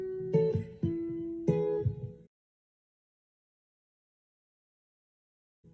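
A basic, relaxed acoustic guitar loop: a few close, clear plucked notes and chords ring for about two seconds, then silence follows and one faint note returns at the very end.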